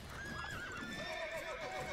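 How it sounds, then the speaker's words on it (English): A horse in The Witcher 3 gives a couple of rising, wavering whinnies over steady clip-clopping hooves, the game's ambient sound running underneath throughout. "I will hit the goddamn horse."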